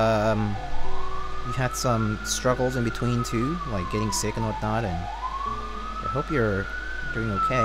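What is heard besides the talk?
emergency vehicle sirens in city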